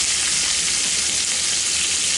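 Noodles fry in butter in a hot pan, a loud, even, continuous sizzle up close with no voices.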